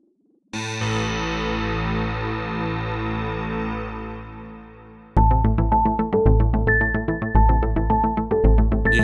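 Sine-wave synth with the reverb switched off: a long sustained dry tone that fades out, followed by a plucky repeating synth pattern with distinct note attacks and no lingering tail.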